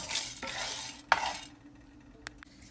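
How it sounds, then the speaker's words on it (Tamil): Toor dal dry-roasts in a pan while being stirred: a brief rustling scrape of dry lentils, one sharp clink of a spoon on metal, then quieter light taps before the clip goes nearly still. "இப்போ நம்ம அடுத்து துவரம் பருப்பை வறுத்துக்கலாம்"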